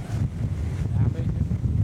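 On a windy Friday in Leeuwarden, strong gusts buffet a microphone outdoors with a constant low roar and rumble. Faint voices sit partly under it.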